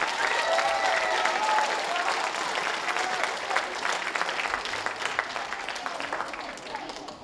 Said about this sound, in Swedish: Ge dem en stor applåd.